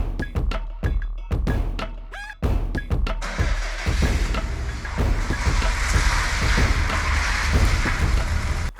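Water sprayed over a Subaru Impreza STI during a quick wash, starting with a series of short sharp bursts and thuds, then settling into a continuous close hissing spray with scattered knocks.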